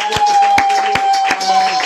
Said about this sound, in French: Acclamons tous pour notre Dieu.